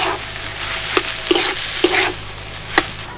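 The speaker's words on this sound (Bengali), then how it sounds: "সমস্ত গ্রেট করা আলুটা ভালো করে মিশিয়ে নিলাম ফোড়নের সাথে।" Grated potatoes fry with tempering spices in a kadai, the continuous sizzle broken by four sharp scrapes and knocks of a spatula as the mixture is stirred.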